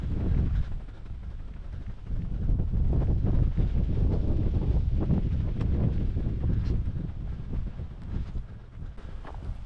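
Steady wind gusting across an open outdoor spot on a windy day where an ARRMA Big Rock RC truck is being run, roaring loudly and continuously into the microphone with no voices.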